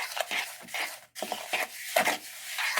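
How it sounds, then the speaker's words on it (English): Fork stirring a dry mix in a bowl, a run of quick scraping, clinking strokes against the bowl that stop for a moment and then pick up again, close and fairly quiet. "We're going to stir that up with our fork."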